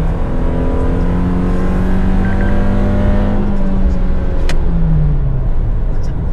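A Suzuki Jimny Nomad drives along a road, its engine droning loud and steady from inside the cabin, with the pitch holding and then dropping as it shifts, under constant road and wind roar.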